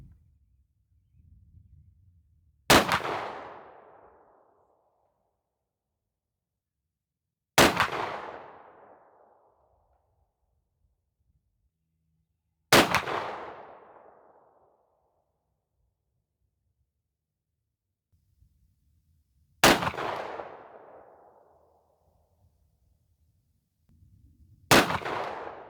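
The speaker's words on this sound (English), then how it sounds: "let's start shooting some groups and seeing what we can get from the 2 3/4 inch Brenneke Red Magic slugs" A 12 gauge Savage 212 shotgun fires 2 3/4 inch, 1 oz Brenneke Red Magic sabot slugs. There are five sharp, loud blasts about five seconds apart, each followed by a short echoing decay and near-silence between.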